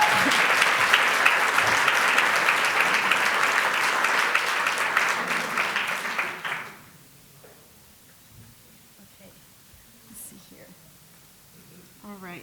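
Audience applause for a keynote speaker at a tech event, loud, steady clapping from a sizable crowd for about six seconds, then abruptly cutting to a quiet room with faint scattered noises.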